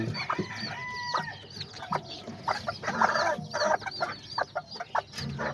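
A hen clucks steadily beside her four roughly week-old chicks, whose high peeping chirps overlap throughout at close range, with a rooster-like call mixed in; no one speaks.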